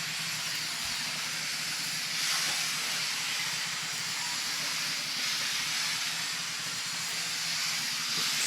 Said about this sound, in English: Plenty of steam coming out of there.